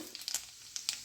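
Cumin seeds hit hot oil with sharp, scattered crackles and pops over a soft hiss, close and fairly faint, lasting only a moment and free of talk.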